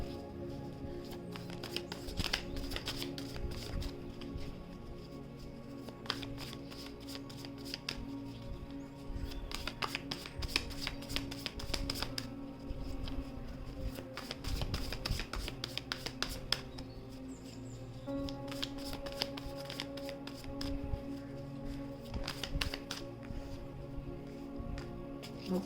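Tarot cards are shuffled and drawn by hand, giving faint, close scratchy riffles, slides and light taps that come in irregular bursts over a quiet room.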